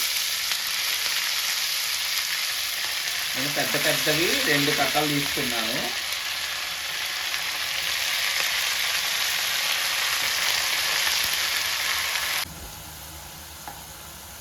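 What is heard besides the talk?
washed spinach frying in tempering in pan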